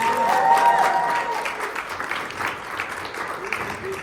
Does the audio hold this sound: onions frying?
no